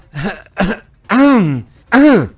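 Someone clears their throat several times in close, loud bursts, two short rasps followed by two longer, drawn-out vocal grunts.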